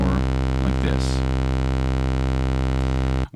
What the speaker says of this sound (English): this is a sawtooth, you see. So the sawtooth has a different sound than the sine wave